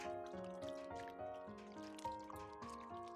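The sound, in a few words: rinsing radish skins with cold boiled water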